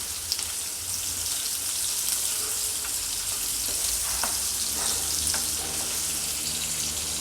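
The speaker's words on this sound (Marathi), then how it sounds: "यात मी दोन कांदे घेतले आहे बारीक अगदी चिरून घेतले त्याला ते टाकूया याला चांगल्याने भाजून घेणार" Two finely chopped onions sizzle in hot oil in a pan, a steady, dense crackle throughout with a few sharper pops and stirring touches.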